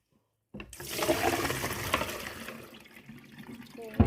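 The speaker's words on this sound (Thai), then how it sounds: "เดี๋ยวเราจะนำมันฝรั่งมาล้างน้ำก่อนนะคะ ล้างเอาแป้งเขาออกนะคะ" Potatoes are rinsed under running water in a kitchen, starting suddenly with a loud, steady rush and splash that fades slightly, ending with a brief knock.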